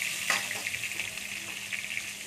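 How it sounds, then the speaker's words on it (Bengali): Pointed gourd (potol) pieces sizzling as they fry in hot oil, a soft steady crackle with small bright pops, close and fairly quiet. "পটলগুলোকে দিয়ে দিচ্ছি তেলেতে"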